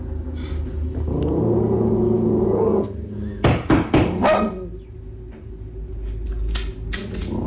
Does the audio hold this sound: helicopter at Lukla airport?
no